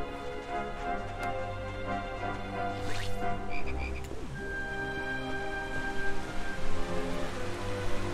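Frogs croak in the video game Dragon Quest XI S, with several short croaks and ticking game effects over a layered musical background, fairly loud and steady throughout.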